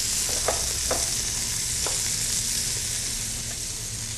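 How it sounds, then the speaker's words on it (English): Mushrooms, onions and garlic sauteing in a pan give a steady close sizzle, with a few brief stirring scrapes near the start. No one speaks. "I'm sauteing the mushrooms along with the onions and garlic"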